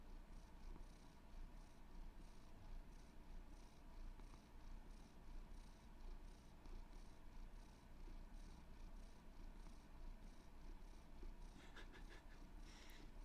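A cat named Bagel purring into a microphone, a quiet continuous rumble with regular breathing cycles that holds steady throughout, faint but close.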